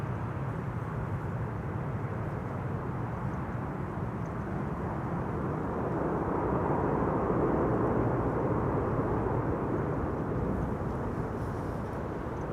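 A Lufthansa CRJ regional jet flying downwind near Amsterdam Schiphol Airport under a low cloud ceiling, heard as a steady broad distant roar that swells slightly midway and holds without a break.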